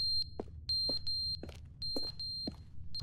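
Repeated electronic alarm beeps in The Stanley Parable Ultra Deluxe video game, sharp high tones in irregular bursts with short gaps, fairly loud over a low background hum.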